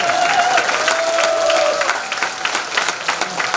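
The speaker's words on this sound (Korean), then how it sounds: "힘찬 박수 부탁드립니다" An audience at a Korean political rally gives loud, steady applause mixed with crowd noise and a few cheers, dense clapping sustained throughout the moment.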